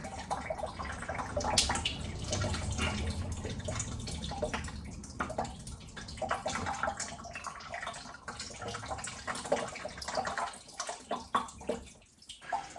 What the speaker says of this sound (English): you want to tilt it back and forth so that the liquid pours out of all the hoses in the system